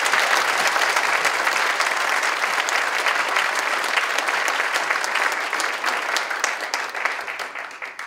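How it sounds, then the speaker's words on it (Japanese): A large crowd at the 2023 Nagano Marathon opening ceremony applauds steadily after the invited male runners are introduced; the dense clapping stays loud and even throughout, tapering slightly near the end. "皆様、大きな拍手をお送りください。"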